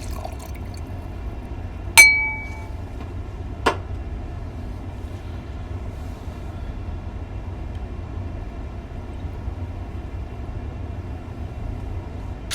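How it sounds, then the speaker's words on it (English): A beer glass being rinsed between tastings gives a sharp glassy clink followed by a second fainter knock, over a steady low background hum with no talking. "we gotta rinse the glass"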